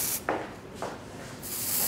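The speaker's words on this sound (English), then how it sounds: "and spray it in" Hair spray hisses from a can into styled hair in two quick bursts, followed by a longer steady spray, close and crisp with no talking.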